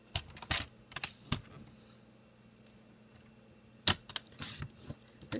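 Whisper White cardstock being trimmed on a paper trimmer, a few sharp slicing and clicking strokes close up, separated by a quiet pause in the middle.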